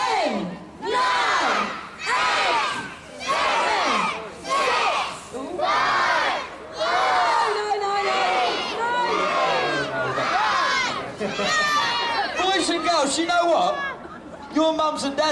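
A pantomime audience of children and parents at a Dickens Christmas event in Portsmouth shouts a countdown in loud, rhythmic bursts, one number per beat, the crowd voices building into a continuous roar toward the end.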